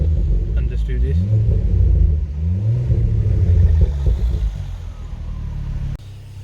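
A Ford Focus ST fitted with a new exhaust rumbles and revs, its deep engine note rising and falling in repeated waves; distinct pops are not clearly picked out, and a voice talks over it.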